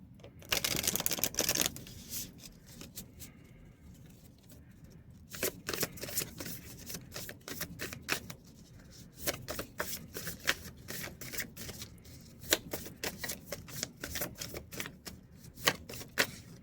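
A deck of tarot cards is shuffled by hand in three bursts, crisp riffling clatter up close, with sharp flicks and taps between the shuffles and no talking.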